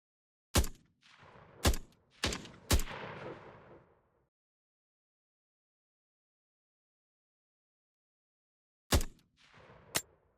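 Gunfire in a Vietnam-era first-person shooter video game: four sharp shots in quick succession, each trailing into a decaying echo, then silence, then two more spaced shots near the end, loud and close with no talking.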